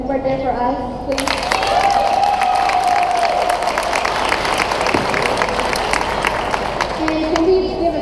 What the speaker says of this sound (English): can we all give a round of applause to our awesome parents that were there for us